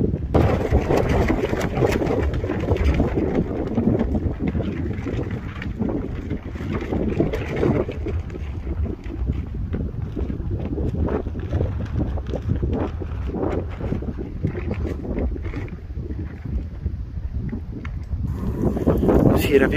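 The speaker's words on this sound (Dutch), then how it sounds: "er is veel wind, dus even buiten is het wel voelbaar" Strong wind blows outdoors on a winter morning in Hulst, Netherlands, roaring steadily as loud, rumbling buffeting over the microphone, with a voice talking faintly beneath it.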